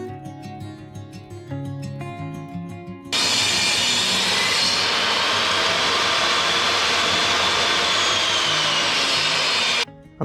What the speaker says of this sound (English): I'm gonna go ahead and get this plywood cut out.